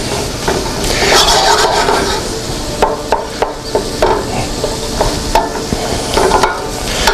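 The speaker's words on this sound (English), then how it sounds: "And constantly stir to make sure things don't stick and make sure that everything is cooking evenly" Ground meat for bolognese sizzles in a wide pan while a utensil stirs it with repeated close scraping strokes over a constant frying hiss.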